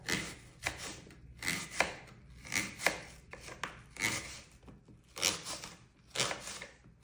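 Repeated knife strokes slicing an apple lengthwise on a cutting board for a Filipino-style apple salad, about seven crisp cuts in a steady rhythm, close and clear with no talk.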